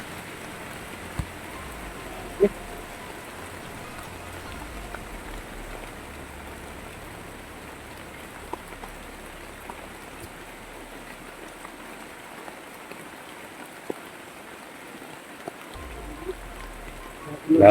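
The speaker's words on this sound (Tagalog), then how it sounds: "Grabe yung ulan dito" Steady heavy rain pours down in a broadband wash, loud and continuous, with a few sharper drips and splashes rising above it.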